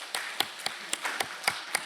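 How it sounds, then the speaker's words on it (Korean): A church congregation claps during a gift presentation at a Sunday service, heard as a sparse, uneven string of sharp claps of moderate loudness, about eight distinct hits over two seconds with no talking. "이게 선물 증정 끝날 때까지 박수하는 겁니다"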